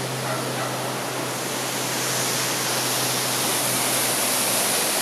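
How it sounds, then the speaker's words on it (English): Waterfall in the Puerto Rican mountains after a hurricane stripped the surrounding slopes, a loud continuous roar of rushing water that stays steady throughout. "There's the waterfall."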